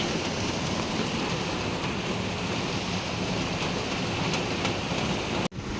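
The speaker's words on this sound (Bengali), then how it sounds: "আরে বৃষ্টি হচ্ছে এখন" Steady rain falling, a dense, even hiss that holds for the whole stretch with no voices, cut by one brief dropout just before the end.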